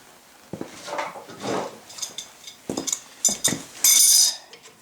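Metal cover cap pried off over a wheel nut on a Kubelwagen, heard as several close clanks and clinks with scraping, ending in a sharp bright metallic rattle.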